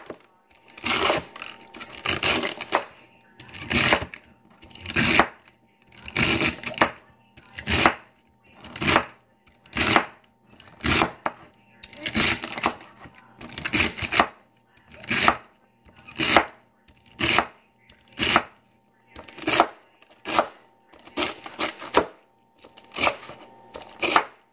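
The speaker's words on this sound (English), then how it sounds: "grab a bunch of this celery and slice it or chop it smaller pieces" Celery stalks being chopped with a knife on a cutting board, a steady run of crisp, evenly paced thuds repeating close up for over twenty seconds with no talking.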